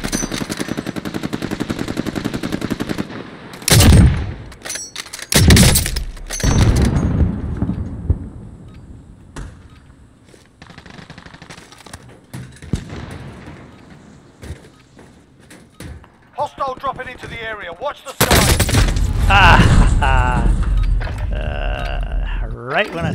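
Gunfire in Call of Duty: Warzone, loud bursts of shots and booming blasts in clusters separated by quieter stretches, with a heavy sustained barrage near the end and speech in places.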